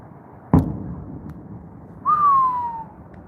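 A single sharp firework bang goes off at night, followed after a pause by a loud descending whistle, like a rocket streaking away, with no voices.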